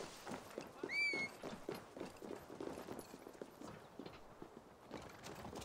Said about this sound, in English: I hear my horse.